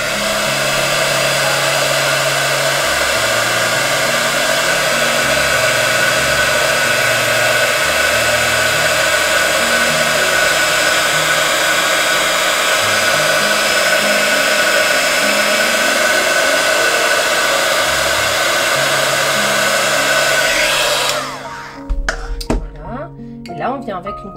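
A hair dryer blows steadily and loudly over wet watercolour paint for about twenty seconds, then switches off, leaving a few faint handling sounds.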